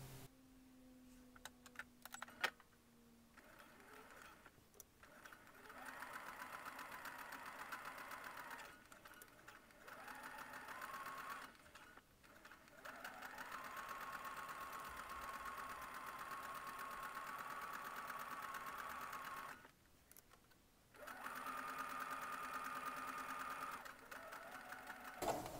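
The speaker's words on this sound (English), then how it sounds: "So we're going to go ahead and sew this at 5/8 of an inch." A sewing machine stitches dress pieces at a 5/8 inch seam, whirring in several steady runs of a few seconds each, separated by brief pauses, close and clear with no talking.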